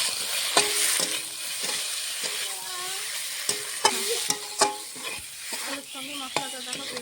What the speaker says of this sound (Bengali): আলুর সঙ্গে মশলাটা দেখো কষিয়ে নিয়েছি,